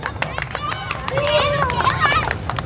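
An outdoor audience in Long Xuyen at a Quà Tặng Bất Ngờ prize game breaks into scattered, fairly close clapping mixed with shouts and lively crowd babble, with a voice rising above it.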